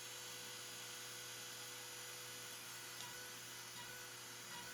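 A CNC router cuts star-shaped knobs, giving a steady high-pitched spindle whine over a constant machine drone throughout, fairly faint and unbroken.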